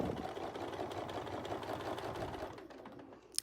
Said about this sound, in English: So we can just sew the top part.